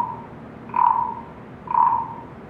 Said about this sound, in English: Little frog on a lawn sings his song all day long.